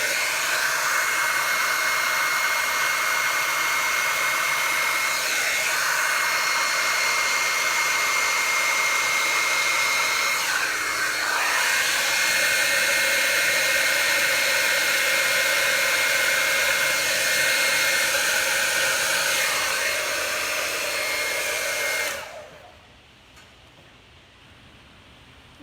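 A blow dryer roars steadily with a broad, loud hiss for over twenty seconds, then cuts off abruptly, leaving near silence.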